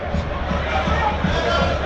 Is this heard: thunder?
no